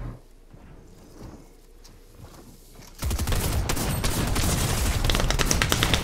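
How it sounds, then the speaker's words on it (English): Dense rapid gunfire from the Fortnite video game during a competitive tournament match erupts halfway through, sustained loud bursts after a quieter stretch of footsteps and ambient game sound. "Why would you shoot him, Chungus?"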